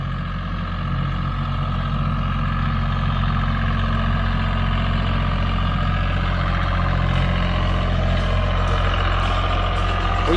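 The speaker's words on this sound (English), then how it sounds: "This little spreader here on this tractor saves a lot of steps." A tractor fitted with a small seed spreader runs steadily, its engine a constant close drone with a droning mechanical whine on top, continuous and unbroken with no talking.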